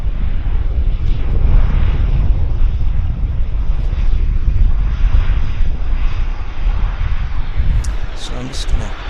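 An airplane landing and rolling out on the runway at Vancouver Airport makes a loud, continuous, rumbling roar with heavy wind buffeting throughout, and a few brief higher-pitched squeaks near the end.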